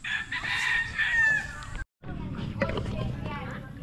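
A fighting cock being conditioned near a rice field crows loudly and close in a drawn-out call, then clucks after a brief silent gap, while people talk in the background.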